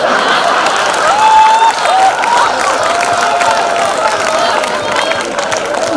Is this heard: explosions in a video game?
no